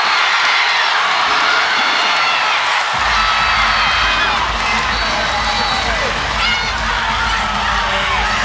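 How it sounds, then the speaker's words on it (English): Loud, sustained roar of a volleyball crowd cheering and shouting in an arena during a regional final, a dense wall of voices that swells as a deep low drone from horns or stomping kicks in partway through. "You can see the cameras on their platform shaking because of the crowd noise right now."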